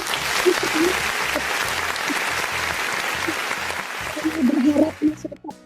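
Dense clapping from an online workshop audience, a busy, steady wash of applause with voices talking underneath, swelling slightly before cutting off near the end.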